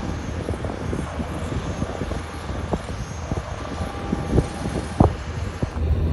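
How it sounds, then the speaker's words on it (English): Military aircraft at Tulsa International Airport give off a steady, loud engine roar and rumble, heard from outdoors at some distance. Faint clanks and thumps ride on top of the continuous roar. "look at some phenomenal views of all of these military aircraft"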